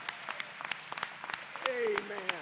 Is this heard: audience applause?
yes